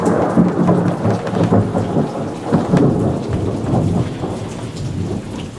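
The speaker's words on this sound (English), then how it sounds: "Thunder?" Low thunder rolls during a fast-moving passing storm, rumbling steadily under heavy rain pattering on surfaces, loud and continuous with no talk.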